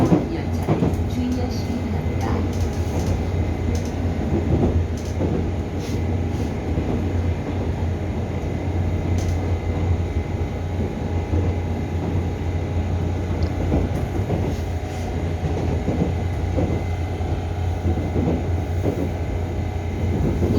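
Steady rumble and rattle of a Busan Metro Line 1 subway train running between Guseo and Jangjeon stations, continuous and loud throughout, with faint clicking and a murmur of voices in the background.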